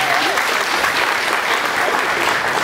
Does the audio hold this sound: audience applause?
yes